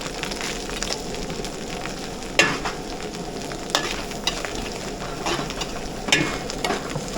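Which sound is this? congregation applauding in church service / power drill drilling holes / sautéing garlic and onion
sautéing garlic and onion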